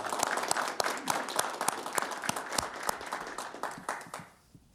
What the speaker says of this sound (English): I think we should give him an applause for all this